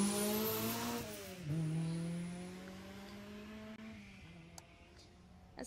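A Peugeot 206 rally car sweeps past on a Jersey rally stage, its engine note rising then dropping as it passes close, with a brief tyre squeal and faint crowd noise behind.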